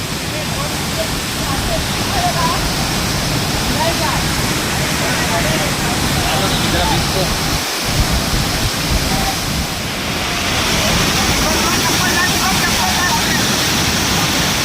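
Savatkada, a tall waterfall at Rajapur in the Konkan, swollen with water, roars as a steady, loud broadband rush that stays constant throughout, with a brief dip near the middle.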